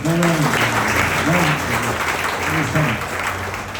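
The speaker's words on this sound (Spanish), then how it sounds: "Denle un aplauso a Jesús por el pastor." A church congregation claps together in sustained applause for Jesus and the pastor, loud and dense, with voices calling out over the clapping throughout.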